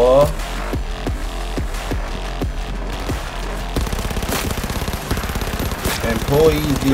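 Rapid bursts of automatic gunfire and single shots from the video game CyberRunna crack out loudly in quick succession over a game soundtrack, with a player talking faintly underneath.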